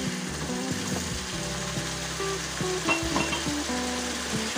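Dry-fried tongkol fish being cooked with spice paste sizzles steadily in a pan, with scraping and clattering stirring strokes throughout, close and fairly loud, no voices.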